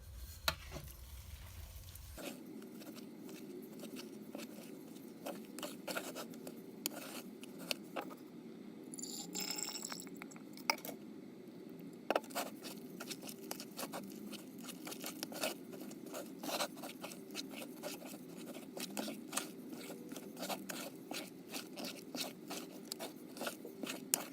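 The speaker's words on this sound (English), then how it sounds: "I need to switch to my dough whisk" Dough whisk mixing a beer, cheese and onion wheat bread dough, producing continuous soft scraping and sticky patter close by, steady throughout with no voices.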